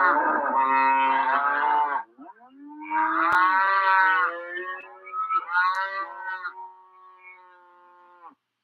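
Cattle moo in a series of long, loud, drawn-out calls, three separate lows with a brief pause between them, fading at the end.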